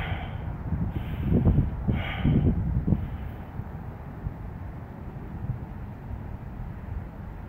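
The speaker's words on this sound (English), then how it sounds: "you can hear cold wind blowing straight down on me" Cold wind rushes down outdoors as a low, steady roar with a few stronger gusts in the opening seconds, then settles into a softer, even whoosh close to the microphone.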